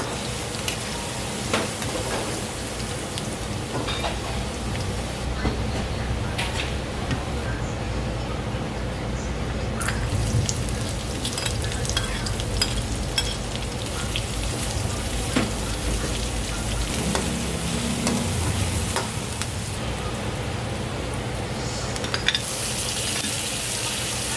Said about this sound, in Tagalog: Akin na po itong gigisahin sa bawang, sibuyas, at kamatis.